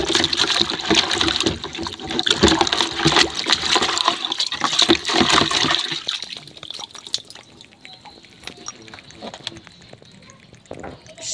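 Water pours and splashes steadily while something is being washed, a continuous close, fairly loud gush for about six seconds that then thins to faint drips and trickles.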